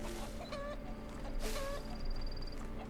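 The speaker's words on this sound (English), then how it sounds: "There's chickens." Chickens cluck in a few short, bright bursts over a steady ambient bed in RuneScape: Dragonwilds, with no voices.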